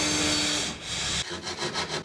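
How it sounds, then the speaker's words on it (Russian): A drill fitted with a metal saw blade cuts an opening for a junction box in a timber cabin wall finished with drywall, giving a continuous rasping grind that breaks into quick rhythmic sawing strokes. "Сейчас я вырезаю отверстие для распред коробок. Для этого использую сверло и пилку по металлу."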